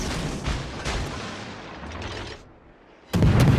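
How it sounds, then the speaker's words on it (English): Naval gunfire in World of Warships, with booming cannon blasts and rumbling shell explosions from a battle involving a Baltimore cruiser, loud and continuous with a fresh heavy blast near the end and no talking. "somebody's shooting him from behind, so the Baltimore has found firing angles"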